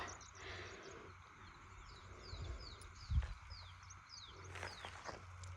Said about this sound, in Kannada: ಸೌಂಡ್ ನೋಡಿ ಫ್ರೆಂಡ್ಸ್, ಎಷ್ಟು ಚೆನ್ನಾಗಿ ಕೇಳಿಸ್ತಾಯಿದೆ ಪಕ್ಷಿಗಳು.